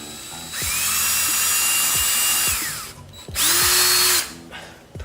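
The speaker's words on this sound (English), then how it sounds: "center it on this hole that we have on the template, press it in, cross your fingers and drill through." A power drill whines steadily as it bores through a motorcycle part via a template hole, pauses briefly, then runs again in a second shorter, louder burst.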